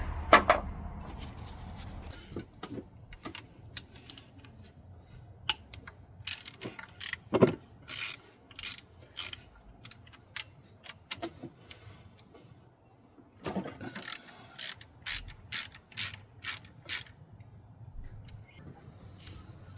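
A ratchet wrench on a Hummer H3 engine works loose the bolts for the front timing chain guides, clicking in quick close bursts with short pauses between them.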